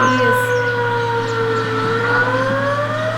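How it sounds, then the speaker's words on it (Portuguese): A nuclear power plant evacuation siren test: a steady, loud wailing siren with a slowly falling and rising pitch, sustained throughout and heard from a distance with no voices. "eles fazem os testes de sirene."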